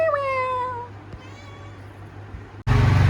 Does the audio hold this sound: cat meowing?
yes